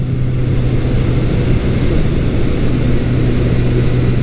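A Honda CB550 motorcycle with a 4-into-1 exhaust runs steadily close by, its engine a loud, continuous low drone with no break in pitch or volume.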